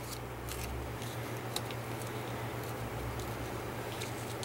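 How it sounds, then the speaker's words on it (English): Scissors cut tape for a craft project, a few faint, quick snips over a steady low background hum. "Then cut it, put my scissor away, cut it"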